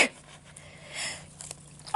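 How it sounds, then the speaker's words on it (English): A single, fairly soft sneeze bursts out in a quiet room, with a few faint clicks around it. "Sorry, I'm gonna sneeze."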